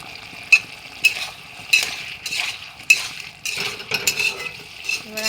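Tomato and ginger sauté in a pan for tilapia curry: a continuous sizzle broken by repeated sharp scrapes and clinks of a spatula stirring against the metal, close and fairly loud, with no talking.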